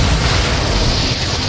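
Flipendo spell blast in Hogwarts Legacy, a loud, dense booming burst filling the whole clip with roaring, explosive noise and no speech.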